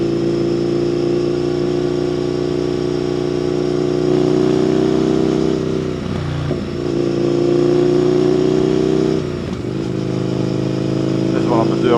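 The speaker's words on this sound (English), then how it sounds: "Mic picks up on this exhaust." A Indian FTR 1200 S motorcycle engine burbles steadily nearby, its exhaust note rising and dipping as the throttle shifts, with a voice talking over it.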